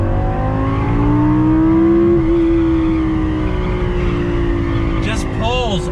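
Lamborghini Gallardo V10 supercar engine pulls hard on throttle, a loud, close, steady rising drone with harmonics climbing in pitch, briefly easing near the end as a voice speaks over it.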